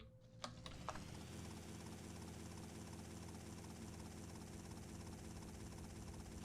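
Helicopter in the video game GTA Vice City, a steady continuous rotor and engine drone with dense layered hum, loud and unbroken throughout, with a couple of brief clicks near the start.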